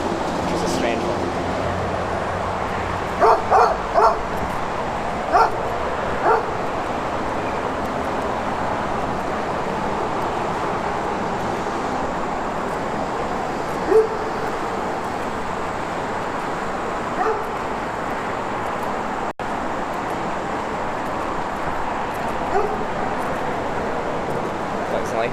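A dog barks a few times in the distance, short scattered yips over steady outdoor background noise and passing traffic.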